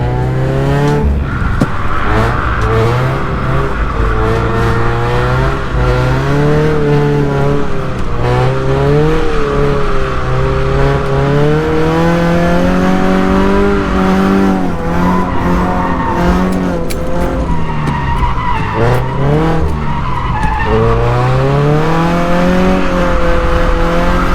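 A Scion FR-S drift car on its first lap of a track runs loud and close, its engine rising and falling through revs while the tyres squeal steadily through long slides, with no talking.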